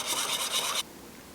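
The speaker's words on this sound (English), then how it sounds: "Whisk that together." A milk pudding base made with lighter milk rather than whole milk is whisked in a bowl, giving a brisk, close, rhythmic swishing that lasts under a second and then stops abruptly.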